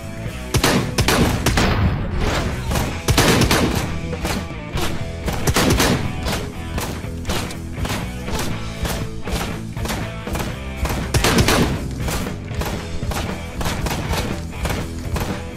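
Dense, continuous gunfire from the video game Ride to Hell: Retribution, rapid shots and bursts hammering without pause, loud and close throughout.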